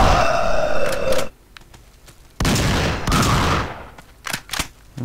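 Shotgun blasts in the game Survivalist sound as several loud, sharp booms with gaps between them, then a quick cluster of shots near the end.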